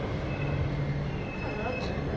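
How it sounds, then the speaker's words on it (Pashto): A Beijing metro train pulls into an underground station with a steady, full rumble of wheels and motors, a faint high whine over it and brief squeals near the end, close and continuous. "دا زموږ اورګاډی دی یعنې ریل دی ټرین دی دا دی راورسېده"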